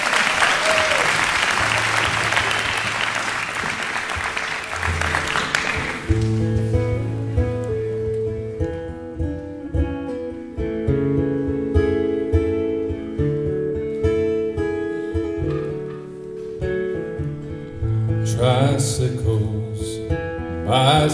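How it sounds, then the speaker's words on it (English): A church congregation applauds loudly at a Christmas special service, a dense burst of clapping that fades out as music begins and carries on underneath. "Give Jesus an applause tonight."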